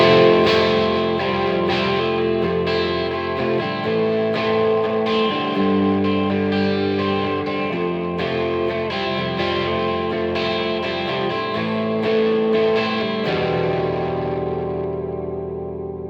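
Electric guitar fed through an overdrive pedal with reverb, playing a sustained chordal passage with ringing, effected tone that fills the clip and fades slightly at the end.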